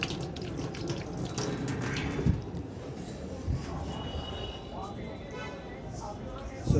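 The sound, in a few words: washing hands under running tap water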